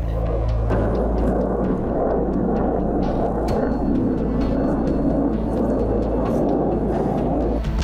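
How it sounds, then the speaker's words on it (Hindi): Fighter planes roar in the sky over the Ladakh border area, a loud continuous rumbling drone that holds steady throughout with no speech. "हवा में गरज रहे हैं फाइटर प्लेन।"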